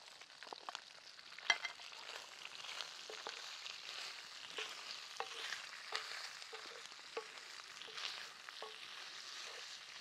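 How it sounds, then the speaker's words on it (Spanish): Chorizo browning in a pan with bacon and sausage added, a steady soft sizzle with faint scattered pops and occasional stirring clicks, heard alone with no voices, for ranch-style frijoles charros. "Y antes de que se me termine de dorar bien el chorizo, le voy a poner el tocino y la salchicha"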